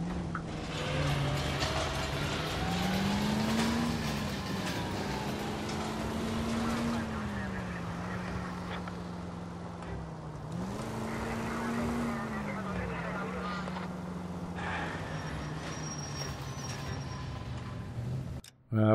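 A car being driven in L.A. Noire, its steady engine drone rising and falling in pitch with gear changes as it cruises along, loud and continuous throughout.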